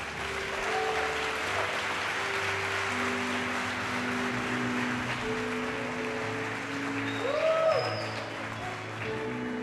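A church congregation applauds steadily throughout, a dense wash of clapping layered over sustained keyboard tones in a large room.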